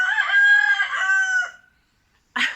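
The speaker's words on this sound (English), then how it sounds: "That's the cockerel." A rooster crows loudly and close by in one long, wavering call, followed by a short pause and the start of another squawk.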